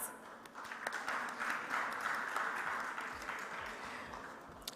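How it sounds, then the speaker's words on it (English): Audience applause at a Delhi Premier League T20 cricket launch event, a crowd clapping in a dense patter that swells and then gradually eases, with scattered cheers underneath, heard from some distance. "Can we have a huge round of applause for all of us?"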